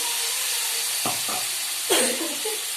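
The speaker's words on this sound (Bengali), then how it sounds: "এবার এই যে দেখুন এর মধ্যে একটু সামান্য জল দিচ্ছি।" A little water splashes into frying masala, giving a steady close hiss with a couple of soft knocks and a sudden louder spurt of sizzle near the end.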